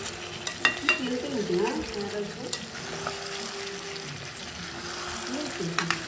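Meat being stirred and sautéed in a pan at home, with scraping spoon strokes over a soft steady sizzle, a faint tap-like hiss and a few sharper clatters near the start.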